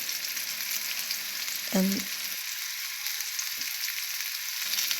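Shrimp frying in oil in a pan as a second batch, with a steady, close sizzle running throughout and one brief spoken word near the start.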